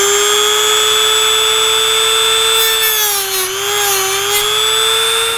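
A power tool whines steadily as it cuts a small notch into a car dashboard, a high sustained tone alone, with its pitch dipping briefly near the end as the cutter loads up.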